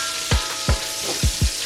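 Cubed pork steak sizzles and fries in a pot, with a steady crackling hiss broken by four or five soft low thumps from stirring or moving the meat.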